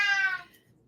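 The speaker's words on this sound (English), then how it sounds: "That is my cat." A pet cat gives one short meow nearby, fading quickly into quiet room tone.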